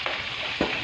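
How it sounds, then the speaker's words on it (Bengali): Pieces of eggplant fry in hot oil, giving a brief, steady, close sizzle with a soft stirring scrape near the end. "দেখছেন কীভাবে তেলে ভাজা"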